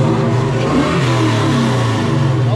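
Ford Coyote V8 swapped into a 2001 Mustang Bullitt revving hard, a loud, close, steady engine roar that holds throughout without pause.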